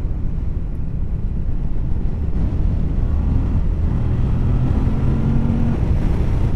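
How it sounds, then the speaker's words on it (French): A 2024 Moto Guzzi Stelvio motorcycle accelerates out of a curve, its engine a loud steady low rumble buried in heavy wind roar, with a faint rising tone toward the end. "Et dès que tu veux accélérer... Sortie de courbe,"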